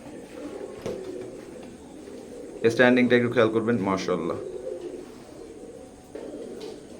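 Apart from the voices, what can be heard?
cooing pair of baby teddy pigeons, pure Oman bloodline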